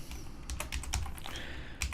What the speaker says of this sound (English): underneath that I'm going to write left